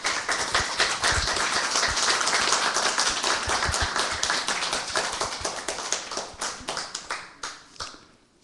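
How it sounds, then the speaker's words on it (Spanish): Lecture audience applause, with dense clapping from a modest crowd that gradually thins into scattered individual claps before dying away. "muchos aplausos"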